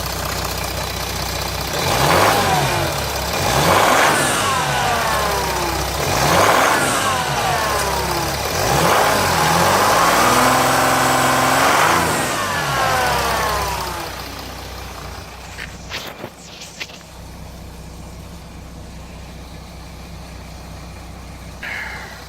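A 2007 Jeep Grand Cherokee 3.0 CRD diesel idles while not yet warmed up, with a suspected loose pump chain rattling. The engine is close, loud and steady, swelling in repeated surges over the first thirteen seconds, then settling quieter with a few clicks.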